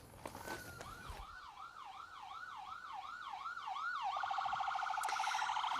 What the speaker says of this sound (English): This ambulance passing by down.